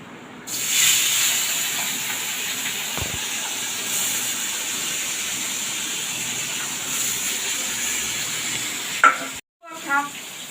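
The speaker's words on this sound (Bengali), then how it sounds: "তেল গরম হয়ে গেছে মাছগুলো আমি ভেজে নেব" Rohu fish pieces fry in hot oil in a home kitchen, a continuous loud sizzle and hiss with a stir or clatter midway, briefly cut off near the end before resuming.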